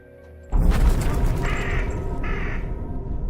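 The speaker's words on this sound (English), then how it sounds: "By adding that sound effect there, it's implying that the bird is what I'm supposed to be afraid of" A crow caws loudly twice over a sudden booming swell, harsh and close, set against a dense, tense background.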